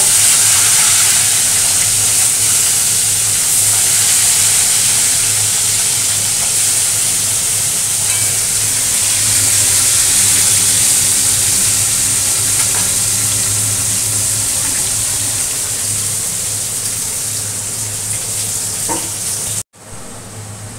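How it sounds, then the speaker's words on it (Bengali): Fish frying in hot oil in a home kitchen, a loud, continuous crackling sizzle heard up close, holding steady for a long stretch before briefly cutting out near the end. "দিয়ে দিচ্ছি এই মাছগুলো, ভাজা হোক"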